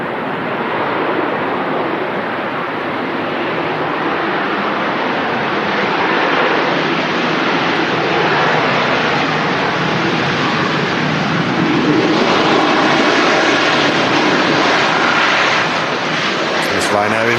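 Airliner jet engines roar at Manchester Airport as a Turkish Airlines Star Alliance jet moves nearby, a loud, steady broadband rush that holds for the whole stretch and swells slightly near the end, with voices mixed underneath.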